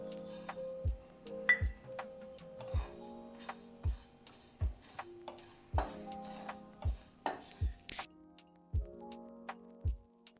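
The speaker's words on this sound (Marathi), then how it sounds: "आणि आता तीळ भाजून घ्यायचे." Sesame seeds dry-roasting in a pan for a curry leaf chutney, heard as a steady rhythm of sharp spatula taps and scrapes against the metal, close and fairly quiet, with no voices.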